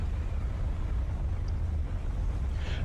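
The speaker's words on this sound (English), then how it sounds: "Alright, it's getting windy" Steady, low roaring wind sweeps through a storm-chasing scene in the video game Tornado: Research and Rescue, a constant gusty rush with no voices.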